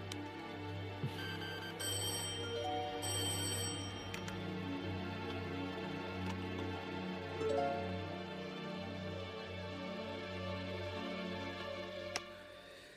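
A telephone rings and goes unanswered, with repeated bursts of an electronic ring over a steady background hum, fairly faint and spaced out.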